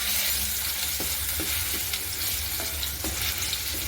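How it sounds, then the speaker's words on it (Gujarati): Ground raw mango paste sautés in hot oil with a dense, even sizzle close by. Soft, irregular taps and scrapes of stirring sound through it. "આ રીતે એડ કરી અને આપણે તેને તેલમાં સારી રીતે સાતળવા દેવાનો છે"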